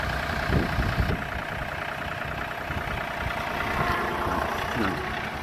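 A 2014 John Deere 3039R compact tractor in road gear pulls away down a road in front of a shop, its steady mid-pitched engine drone continuous and fairly close, with brief voices in the background.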